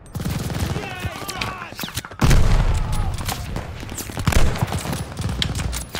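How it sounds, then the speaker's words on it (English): Dense gunfire from the Call of Duty Vanguard video game, with continuous rapid bursts, sharp shots and a heavy boom around the middle, loud and chaotic throughout, with voices shouting over parts of it. "I don't even know where the gunfire is."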